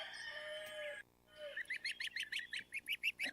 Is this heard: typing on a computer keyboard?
no